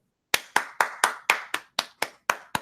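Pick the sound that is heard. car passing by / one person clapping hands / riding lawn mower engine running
one person clapping hands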